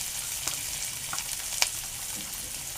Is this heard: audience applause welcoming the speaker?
no